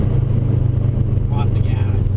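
A 2004 Subaru WRX with an Invidia Q300 catback exhaust cruises in third gear at about 3,000 RPM and 40 mph. Its exhaust gives a steady, loud, low droning hum close by.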